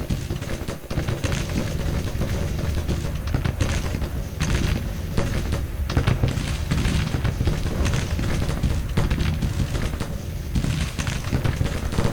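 Battle gunfire in the Civil War strategy game Grand Tactician: a dense, unbroken crackle of musketry and dull booms, steady and fairly loud throughout.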